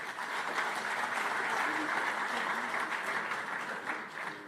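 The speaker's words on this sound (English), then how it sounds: "Give her a round of applause." An audience at an event honoring a former International Court of Justice vice president and judge breaks into sustained applause, a dense, steady wash of clapping filling the whole stretch with a few voices faintly mixed in.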